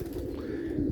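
A pigeon coos once, soft and low, in a brief close call with no talk.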